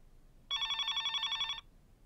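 A telephone bell rings in one burst of rapid trilling, close and clear for about a second against a quiet room before cutting off.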